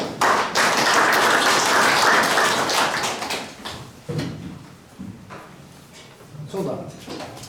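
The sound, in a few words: applause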